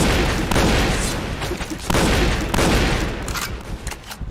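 Shotgun gunfire in the Point Blank shooting video game, heard as several loud blasts with rolling echoes that fade between shots.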